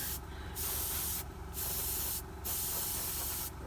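Varnish sealant is sprayed from an aerosol can onto a painted miniature in four steady hissing bursts, each about a second long with brief pauses between, loud and close.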